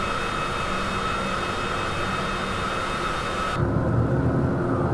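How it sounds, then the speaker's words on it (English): Aircraft landing gear extending during a flight from KCAE to KCAK, heard over a steady, loud engine and wind drone that shifts to a deeper, heavier rumble for the final second or so. "Landing gear going down."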